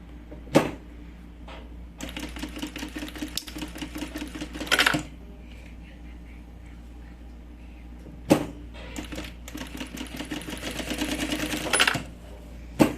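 A sewing machine stitches a fabric pencil case in short, rapid runs of close mechanical clatter, with sharp clicks and pauses between seams and a low steady hum underneath.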